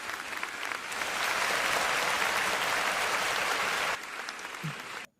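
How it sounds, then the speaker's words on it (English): A radio show's small crowd breaks into dense, steady clapping that swells, holds for a few seconds, then tapers off abruptly near the end. "Clap some more."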